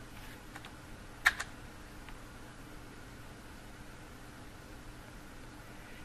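Computer keyboard typing, a few quick faint key clicks with one louder pair of taps, close over a steady hiss of room noise, no talking.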